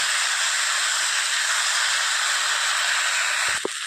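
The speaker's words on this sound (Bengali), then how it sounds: "লবণটা দেওয়ার পর কচুগুলো একটু ভালো করে ভাজতে হবে" Taro pieces frying in a pan with salt, giving a steady, loud sizzling hiss throughout, with a couple of brief clinks near the end.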